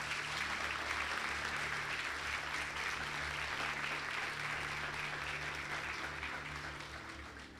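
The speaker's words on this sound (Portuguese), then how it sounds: "Eu gostaria que vocês o recebessem com uma salva de palmas." A church congregation applauds during a special service welcoming a visiting pastor, steady sustained clapping from a full room that holds for several seconds and then slowly fades, with a low constant hum underneath.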